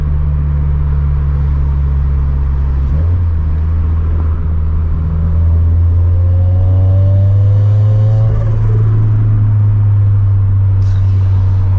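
A turbocharged Toyota FRS with a GReddy turbo revs hard and accelerates, its rising pitch joined by a whistling turbo spool that climbs and then releases, loud and close.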